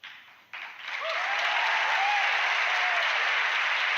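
An audience of over a thousand people bursts into massive applause, rising quickly after a brief lull into a loud, sustained roar of clapping with a few cheers and whistles on top.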